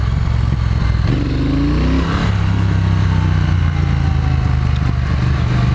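A 2018 Triumph Thruxton motorcycle engine revs and accelerates as the throttle rolls on, a loud, close, continuous roar that rises in pitch and shifts through gears.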